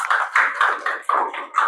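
A class of students in an Indonesian Islamic studies lesson claps together in a quick, rhythmic burst of applause lasting under two seconds, with no talking over it.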